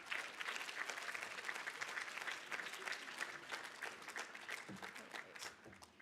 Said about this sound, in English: Let's hear a round of applause for all of our student organizations.